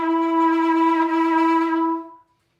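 A sustained saxophone tone with a rapid, wide vibrato, played alone and fairly loud for about two seconds before cutting off.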